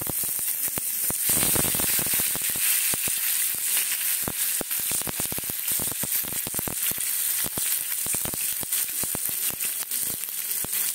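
Tomatoes and garam masala hit hot oil in a pan, giving a loud, steady crackling sizzle with sharp spatters and pops throughout, no talking.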